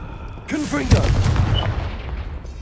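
A Confringo fire blast spell bursts in Hogwarts Legacy amid a ruined area, a loud booming explosion with crackling debris trailing off, a voice speaking over the start.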